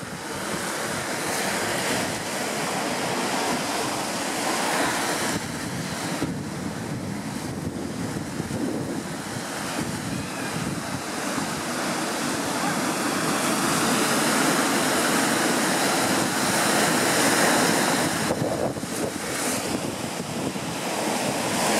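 Ocean surf breaks steadily at Bodega Head on a bright sunny day, a loud continuous roar of crashing waves with heavy wind buffeting the microphone throughout.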